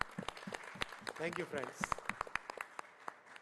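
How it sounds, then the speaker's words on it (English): At the closing press briefing of the India AI Impact Summit 2026, scattered claps honor the media, sharp and sparse beneath someone speaking into a microphone. "A big round of applause for the media."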